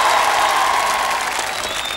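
A crowd at the 1973 Intervilles Alès versus Avignon televised games applauds the Avignon goalkeeper, a dense, steady wash of clapping from a large audience, fading slightly toward the end.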